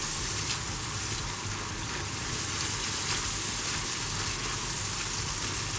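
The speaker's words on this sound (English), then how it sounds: "And frying shrimps," Steady, dense sizzling of shrimp frying in a hot pan, a continuous crackling hiss with no pauses or voices.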